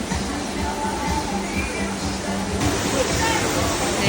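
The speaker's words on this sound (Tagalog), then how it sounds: "Guys, we're here in the falls." Waterfall in Siquijor roaring steadily as a broad, constant wash of falling water, fairly close and loud, with faint voices in the background.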